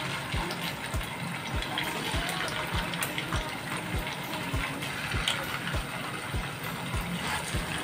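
Potato smiley fries frying in hot oil, giving a continuous close sizzling hiss with regular little ticking pops throughout.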